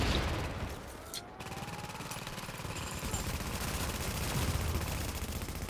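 Gunfire from The Division plays as a steady, rapid automatic rattle that runs almost without a break, fairly loud and dense, with a short dip early on.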